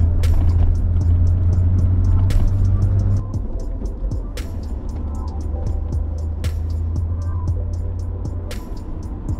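A 34-year-old BMW E30 Baur drives along, its engine a steady low drone that eases slightly after a few seconds, with light ticking from inside the car.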